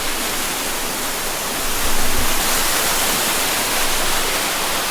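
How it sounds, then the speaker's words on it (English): A mountain waterfall swollen with snow runoff rushes hard, a dense, loud, steady roar with no talking. "Just got down to the waterfall and it is rushing,"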